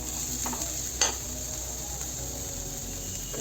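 Chopped onion with a pinch of salt frying in a pan for radish paratha gives off a faint, steady sizzle with occasional light stirring clicks. Quiet and close, with no talking.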